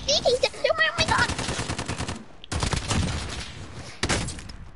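AK rifle fire in a video game comes in several rapid automatic bursts separated by short pauses, with a voice talking between and over them.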